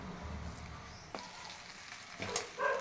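Egg rice being mixed in a pan with a squeeze of lemon, giving soft scraping and stirring scuffs over a faint sizzle, with a couple of sharper clinks near the end.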